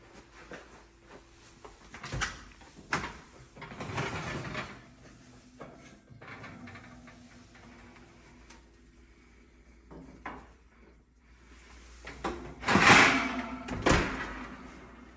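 Oven door opened and a pot of beef tips in gravy taken out, with clunks, a door creak and metal pot knocks at intervals, close by and moderately loud amid quiet kitchen handling.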